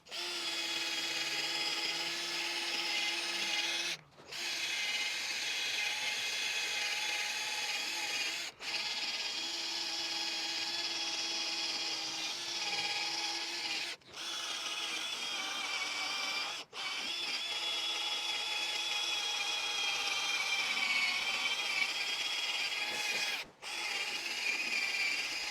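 Power tool polishing aluminium alloy wheels after stripping, a loud continuous high whine running close for about 25 seconds, broken by five or six brief stops and restarts, with no voices.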